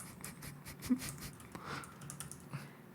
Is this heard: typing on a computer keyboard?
yes